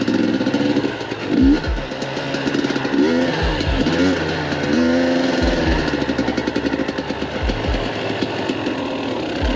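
A motorcycle engine runs steadily on an outdoor break-in test ride near Antalya, a close, continuous buzzing drone with brief revving swells and occasional low thumps, and no voices.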